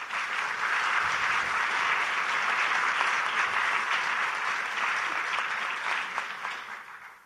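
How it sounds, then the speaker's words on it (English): Steady, dense applause from an audience at a Bernie Sanders campaign rally in South Carolina, welcoming a speaker to the stage, holding loud and even for about seven seconds before tapering at the end. "Can you guys give her a round of applause?"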